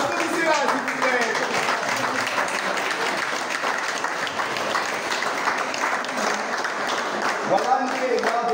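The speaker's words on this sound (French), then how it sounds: "Applaudissez-la, s'il vous plaît." Sustained audience applause at a cinema screening honors a producer, dense even clapping from many hands that holds level for several seconds while a voice speaks over parts of it.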